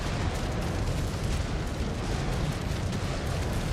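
Heavy autocannon fire in the MechWarrior 5: Clans video game comes as a dense, continuous roar of rapid blasts and explosions. It is loud and steady throughout, with no pause.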